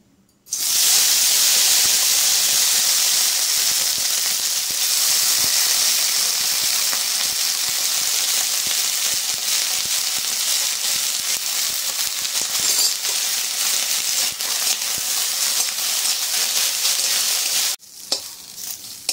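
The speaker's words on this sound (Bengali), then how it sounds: "আবার ওই তেলে কেটে রাখা উচ্ছেগুলো ভেজে নেব" Sliced bitter gourd hits hot oil for a Bengali shukto and fries in a loud, continuous sizzle with crackling and spitting, occasional stirring clicks, until the hiss drops away near the end.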